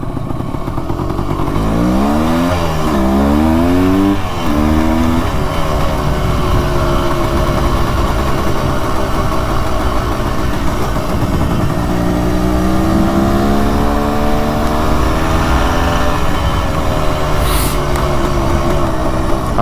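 A 400cc two-stroke motorcycle engine runs loud and close, buzzing at idle with repeated rising and falling revs throughout.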